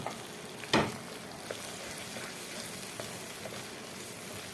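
Tomatoes frying in a pan with onion and browned ginger-garlic paste for an arbi (taro root) curry, a steady close sizzle with one sharp stir or spatter burst near the start and small crackles after, no talk.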